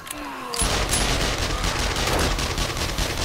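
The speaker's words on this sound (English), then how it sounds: "I'm also shooting much louder than you are." Sustained gunfire from a horde night fight in the zombie survival game 7 Days to Die, dense rapid shots starting abruptly after a quiet moment and continuing loud and steady.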